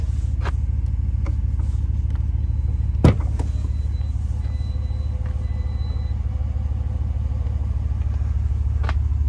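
A 2022 Wagoneer Series II with a 5.7 liter V8 idles with a steady, deep low rumble throughout, joined by a sharp knock and faint mechanical clicks partway through.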